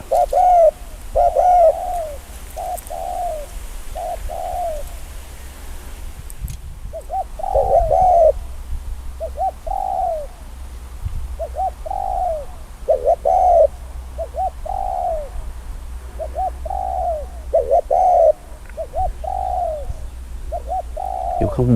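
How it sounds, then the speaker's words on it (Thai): A dove in the trees calls in a small, thin voice, repeating short cooing phrases in a steady rhythm across the stretch, clear and moderately near over a quiet outdoor background. "เสียงเล็กครับ นกเสียงเล็กครับ"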